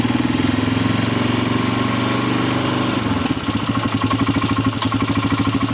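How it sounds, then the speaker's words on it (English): A 2007 Polaris Hawkeye ATV engine with a newly replaced choke cable runs steadily at a loud, close idle, its low throb shifting to a choppier, pulsing rhythm partway through. "There we go. It's running."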